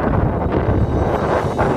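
Strong mountain wind buffets the microphone on Mount Kulis, a loud, steady broadband roar with gusty surges throughout and no voices.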